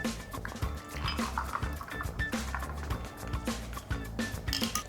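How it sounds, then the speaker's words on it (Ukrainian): Iced coffee drink pours and splashes from a cocktail shaker into a glass, with ice clinking and rattling, close and fairly quiet. "Відкриваємо шейкер і наливаємо"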